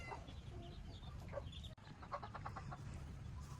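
Chickens and roosters kept in a Filipino backyard flock cluck and chatter steadily close by, with short calls rising over a constant low murmur of birds and no clear talk.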